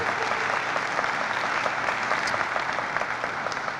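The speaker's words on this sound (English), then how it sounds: "let's give our federal delegation another round of applause" A crowd at a county affordable housing announcement claps steadily and fairly loudly, dense sustained applause filling the full few seconds without pause.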